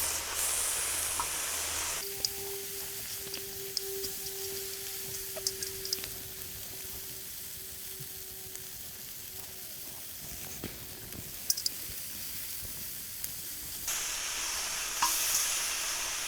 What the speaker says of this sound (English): We got 10 wings cooking here.